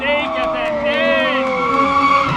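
Mazda Miata drifting at a drift event, tyres skidding and squealing in long wavering screeches over a loud, steady engine roar, with an announcer's voice talking over it.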